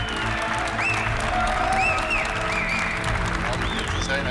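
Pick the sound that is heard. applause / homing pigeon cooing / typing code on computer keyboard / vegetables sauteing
applause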